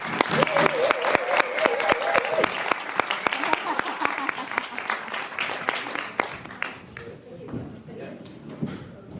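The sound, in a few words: audience round of applause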